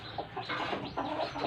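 A chicken on a farm, a hen whose eggs have just hatched, gives short, close clucks in quick uneven bursts over a brief moment.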